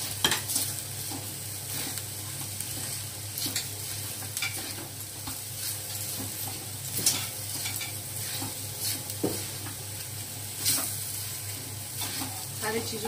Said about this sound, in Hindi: सारी चीजों को हमें अच्छे से भून लेना है ताकि मसाला भून जाए और हमारा जो आलू है वो गल जाए